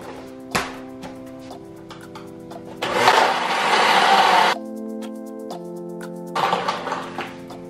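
A kitchen blender runs on high, mixing a Starbucks-style iced drink: loud whirring bursts start and stop in short runs, with quieter motor hum and clicks between them.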